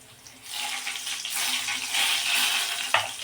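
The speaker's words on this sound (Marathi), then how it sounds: "लसूण सोनेरी रंगावर येवस्तोवर आपल्याला तळून घ्यायचं आहे, भाजून घ्यायचं तेलामध्ये." Plenty of garlic fries in hot oil for a tempering, giving a steady close hiss and crackle that swells and holds, with a small sharp clink near the end.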